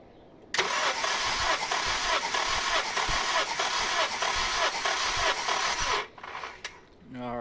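A Honda Civic with a turbocharged, blown engine cranks over steadily on the starter during a compression test, a loud continuous churning for about five and a half seconds before it stops, followed by a few small clicks and handling noises.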